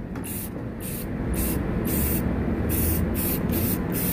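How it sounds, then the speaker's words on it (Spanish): Spray paint hisses steadily from an aerosol can held close, a continuous broad spray broken into several short and long bursts. "para pintar con spray, hay que mantener una distancia de unas 5 a 6 pulgadas"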